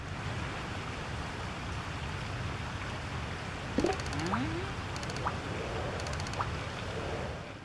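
Steady, rushing water from waterfalls in the Flooded Forest of Monster Hunter Tri forms an even broadband wash, with a few brief chirping calls and small electronic blips rising over it partway through.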